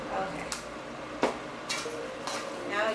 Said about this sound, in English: Now you just want to go ahead and mix everything in all nicely.